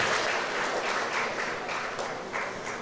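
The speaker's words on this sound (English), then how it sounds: "Let's give him another round of applause" A round of applause from an audience at an arts council festival launch in San Fernando, a dense, continuous clatter of many hands that swells and dips slightly in waves.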